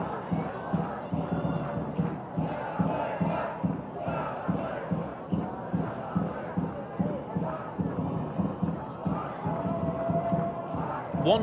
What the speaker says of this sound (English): Werder Bremen score a goal is the chant from the home crowd